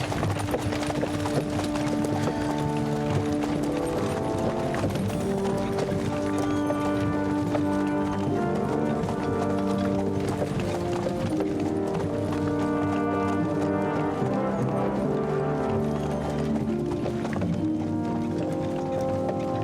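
Horse hooves clip-clopping steadily in the medieval game Kingdom Come: Deliverance II, a continuous rhythmic trot under a dense layer of game music and ambience, moderately loud throughout.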